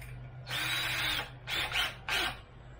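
A power drill whirs in three bursts, one long run followed by two shorter ones, close by over a low steady hum, drilling holes in small planter pots.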